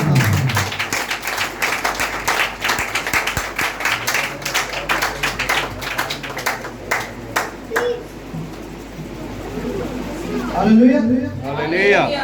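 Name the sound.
loud applause from audience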